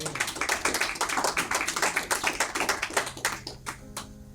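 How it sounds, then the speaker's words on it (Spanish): A congregation claps during a Spanish-language church service. The claps are fairly faint, steady and rhythmic, with a low tonal hum emerging near the end. "Dale un aplauso a Dios por su palabra."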